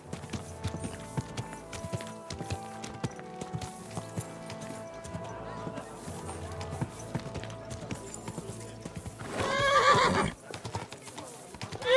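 In the medieval video game Kingdom Come: Deliverance 2, a horse's hooves clip-clop steadily at close range, then a loud whinny rises near the end while a voice speaks briefly.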